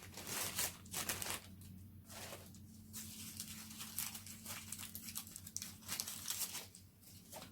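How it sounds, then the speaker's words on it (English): High-tack tape handled at a craft table while making a beaded hanging bauble, with quiet crinkling and tearing bursts coming and going over several seconds, faint and close. "I'm going to get some high tack tape."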